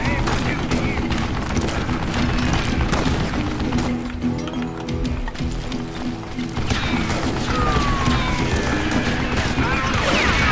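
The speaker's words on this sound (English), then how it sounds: "stop shooting" Gunfire rattles through a Western shootout in the video game Call of Juarez: Gunslinger, loud and continuous, with dense in-game clatter and effects and a voice speaking over it.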